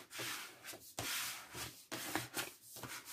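A burnishing tool pressed over glued paper on an album, making soft dry rubbing strokes that come in rhythmic back-and-forth passes, close and quiet.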